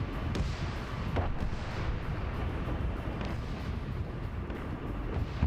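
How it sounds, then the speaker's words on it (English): Heavy artillery explosions thud and rumble in a 31st Steel Legion campaign battle game, a continuous low roar with several sharper booms scattered through it. "We're hearing big explosions here."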